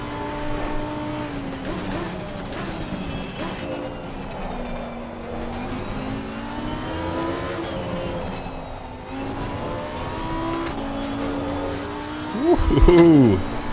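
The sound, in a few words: race car engine in Assetto Corsa Competizione video game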